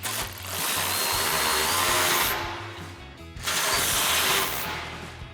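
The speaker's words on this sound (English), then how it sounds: "Now we're going to come in with our 18mm socket and tighten down our hardware." A power tool drives an 18mm socket to tighten the mounting bolts on a RedRock Trail Force HD front bumper fitted to a Jeep Wrangler JL. It makes a loud, close, steady whirring run, drops off in a short pause, then comes back for a second burst.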